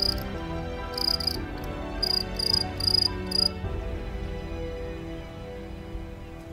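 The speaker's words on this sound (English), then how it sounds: "Grasshoppers and crickets belong to a group of insects called the Orthoptera." Crickets and grasshoppers chirp on a summer day, with bright bursts of stridulation pulsing in quick clusters for a few seconds over a soft, continuous insect hum.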